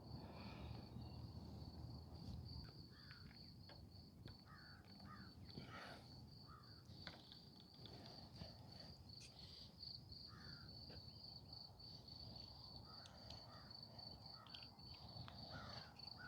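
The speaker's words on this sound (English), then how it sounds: "The crickets are out right now too, and crows apparently." Crickets keep up a constant high trill on a night overlooking Hamilton, while a crow caws repeatedly in short, harsh calls, moderately near, against faint outdoor ambience.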